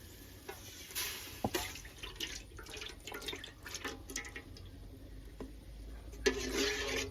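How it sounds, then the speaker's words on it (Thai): Coconut milk being poured into a pot for black bean sticky rice makes a faint, quiet liquid trickle with scattered drips. "เราก็เทกะทิลงไปนะครับ"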